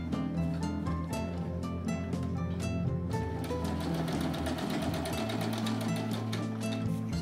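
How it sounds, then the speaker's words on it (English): Close, steady whir of a sewing machine stitching quilt strips, running continuously with a rapid mechanical chatter and a slight change in pitch midway. "And then you just sew."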